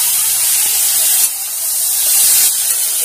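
Potatoes, plantain, onion, tomato and green chili sizzle in hot oil in a pan, a loud, steady, close hiss that swells slightly as the pan is worked.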